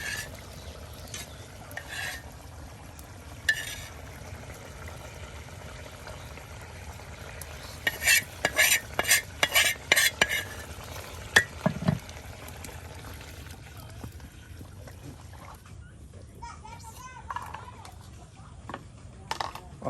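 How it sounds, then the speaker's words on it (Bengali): Pangas fish frying with spices in oil in a village kitchen gives a continuous low sizzle, with a cluster of quick clinking and stirring knocks near the middle and softer scrapes later. "এই যে মাছগুলা এখন তেলে মশলাই দেওয়া দেওয়া হইতেছে।"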